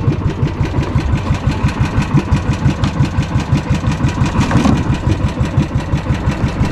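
A motor engine runs just after starting, settling into a loud, close idle with an even, rhythmic chugging pulse that holds steady throughout.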